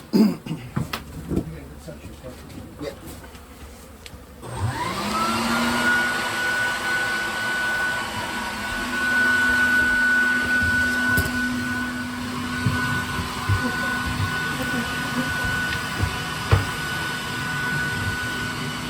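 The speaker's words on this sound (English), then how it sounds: "So we slowly vacuum up the bees." A vacuum motor starts up after a few seconds and runs with a steady whine and hum while bees are sucked from a shed during a large bee removal of about 40,000 bees, with a voice talking intermittently over it.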